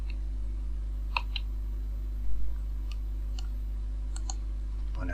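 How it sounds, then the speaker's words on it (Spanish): Computer keyboard keys pressed during Blender 3D modelling work, a few sparse light clicks and taps spread across about five seconds over a steady low hum, with no speech. "pulsar la tecla menos, la del teclado normal, no el numérico"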